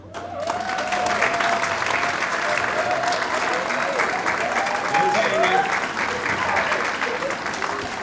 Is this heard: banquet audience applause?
yes